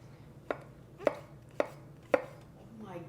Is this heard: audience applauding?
no